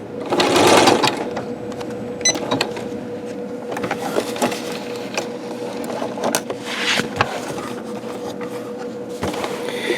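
A Janome MC9900 sewing machine stitches with wiry metallic thread on top and all-purpose bobbin thread, its steady whirring motor running nearly the whole time with a louder burst near the start and brief pauses, close and alone.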